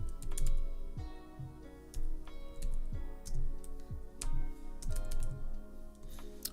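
Fingers type on a computer keyboard in quick, irregular bursts of clicky keystrokes, fairly close and alone, with short pauses between runs.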